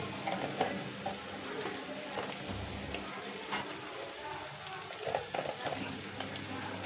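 Ground spices such as turmeric, chili, coriander, cumin and fennel powder frying in hot oil in a pan on a low flame, giving a steady soft sizzle with a few stirring scrapes, close and continuous.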